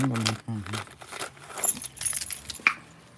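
Car keys jangle and clink close by in brief metallic bursts, mixed with rustling of a coat, following a moment of a person talking.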